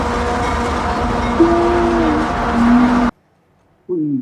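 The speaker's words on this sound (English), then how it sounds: "AC-44CW, not technically a Dash 8, but it was built in that era, and the horns sound the same." A CSX AC-44CW locomotive passes close by, its train rumble loud and steady, while the horn sounds in two long blasts before the noise cuts off, followed by a brief voice.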